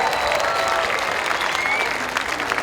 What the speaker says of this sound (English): Cheer him on, ladies and gentlemen.